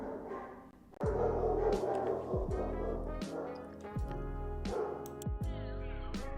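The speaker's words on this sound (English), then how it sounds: "Sorry, my dogs are barking." Several dogs bark in quick bursts at a home, with about five loud, close, sharp barks spread across the moment. A faint yip or whimper comes between the barks.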